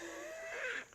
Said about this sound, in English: one of the frogs is calling.